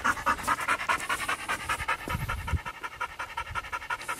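A gundog in training pants rapidly and steadily at close range, quick rhythmic breaths over several seconds, with a brief low thump partway through.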